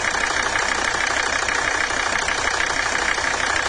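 A Chevy truck's diesel engine idles on diesel fuel, a steady continuous mid-pitched rumble with a faint knocking texture, close and unbroken, with no talking.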